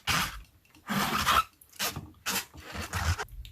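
A chamois cloth rubs and scrubs across a rubber stamp in several short, close bursts of rasping friction separated by brief pauses.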